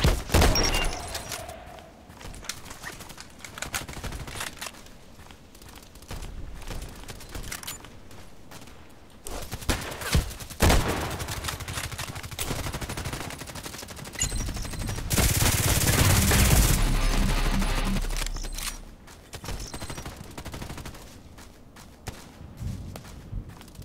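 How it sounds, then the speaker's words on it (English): Gunfire in an online shooter match on the Old Sawmill map: bursts of automatic fire and scattered shots, with footsteps, run through about 24 seconds and peak in a loud, dense stretch near the middle. "Who's shooting from far away?"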